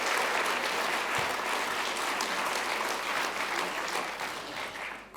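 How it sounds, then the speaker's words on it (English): Applause for winners at the 2023 Queensland Literary Awards ceremony, a steady wash of clapping from an audience that fades slightly toward the end, with no talk over it. "Another round of applause for all of those winners."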